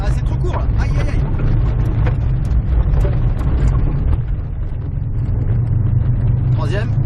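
Subaru engine droning and surging on a driving circuit as the throttle is reapplied after light braking, with a heavy rumble running throughout and a voice speaking over it in bursts.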